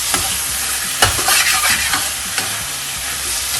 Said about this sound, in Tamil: கிண்டிடுவோம்.